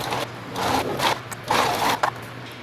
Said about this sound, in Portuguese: vou para a máquina para passar uma costura bem aqui na bordinha